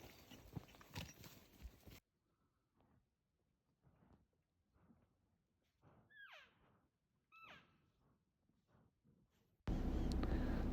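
Horses picking their way over deadfall on a Wyoming mountain trail, scattered hoof thuds and woody cracks at close range, with a couple of short bird chirps in between and a loud burst of noise at the end.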